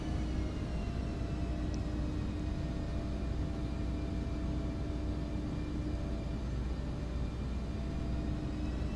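Steady low engine rumble and airflow hum of an Embraer E145 regional airliner descending in the X-Plane flight simulator, constant and even throughout with no voices.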